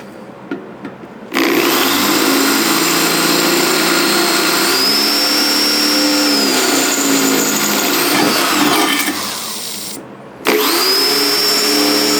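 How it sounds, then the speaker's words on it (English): A power drill runs steadily at high speed for several seconds drilling holes in an ammo can, briefly stops, then whines back up, loud and close. "Take that drill bit and drill out the holes."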